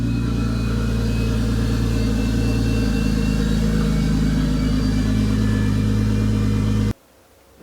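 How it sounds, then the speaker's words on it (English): A Nissan R32 engine idles after starting, a loud steady rumble with an uneven mechanical beat close by, running alone until it cuts off abruptly near the end. "So, the R32 does run. It does start."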